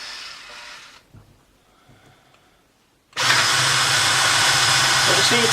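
A Meccano model hoist motor, slow-geared, lifting a model traction engine in a Meccano warehouse, a loud steady motor whine that starts abruptly partway through after quiet handling noises.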